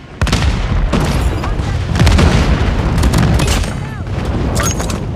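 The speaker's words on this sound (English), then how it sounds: "Friendly airstrike incoming." A loud, dense barrage of airstrike explosions and gunfire in a Call of Duty multiplayer hardpoint match, with continuous rumbling booms close up and game announcer voice lines over the chaos.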